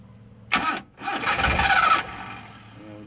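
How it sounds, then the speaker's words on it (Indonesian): A car engine is cranked by its starter after a new relay has been fitted, giving a short burst of cranking, a pause, then a longer loud whirring crank for about a second before it stops, with a faint hum afterward. "Coba tes starter hidup nggak?"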